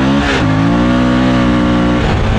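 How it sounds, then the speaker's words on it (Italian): A Suzuki V-Strom 1000 motorcycle accelerates hard on a slick road with its rear wheel slipping, its loud, close engine note dipping briefly and then climbing in a steady revving tone. "io sto accelerando e slitta"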